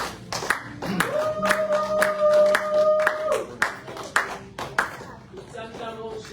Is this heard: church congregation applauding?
yes